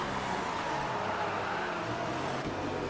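F1 racing car engines from a video game at a German track, a dense continuous engine roar filling the whole stretch, loud and steady with no gaps and no talk.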